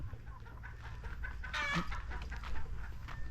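Chickens cluck near a chicken coop at a house among rice fields, with short soft clucks and one clearer call partway through, at moderate distance over steady low outdoor rumble.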